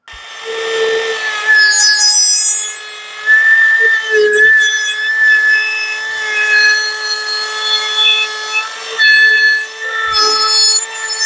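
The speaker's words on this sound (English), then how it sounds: "Now I'm just going to put a chamfer around the outside edge." Small power tool routing a chamfer around the outside edge of a small scrap of 2x6 wood, a loud steady high whine with tonal harmonics and brief dips as the cut moves along the edge.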